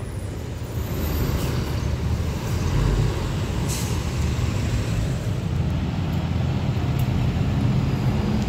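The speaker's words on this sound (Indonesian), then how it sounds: "Dan dari barat ada bus pariwisata Blue Star." A Blue Star tour bus passes through a busy Indonesian bus terminal at the peak of holiday return traffic, a steady loud rumble of engines and road noise with faint air-brake hisses above it throughout.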